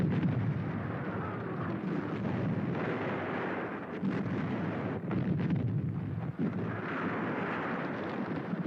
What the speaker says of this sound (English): To reduce it, the Germans brought up special siege guns.